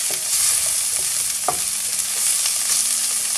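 Okra with onions, curry powder and spices is stirred in a hot frying pan. A steady sizzle runs throughout, with a few sharp utensil clicks and scrapes against the pan.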